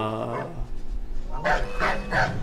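Dogs in Assassin's Creed 3 let out several short barks and yips over a steady low game hum, a quick burst of three or four barks toward the end, moderately close.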